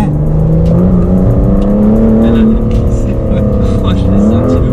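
An Aston Martin DBS Superleggera engine pulls hard and loud from inside the car, a deep rising and falling roar with shifting pitch, while someone talks over it.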